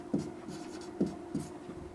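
Writing out a triangle mensuration solution on a surface produces soft, close scratching strokes, with a few rhythmic marks repeating at short, even intervals.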